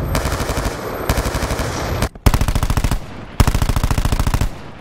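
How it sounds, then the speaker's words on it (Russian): Rapid bursts of automatic gunfire from a Call of Duty machine gun, several sustained volleys with short pauses between them, loud and punchy like game weapon sounds. "звуки стрельбы, ну, не то чтобы очень поменялись"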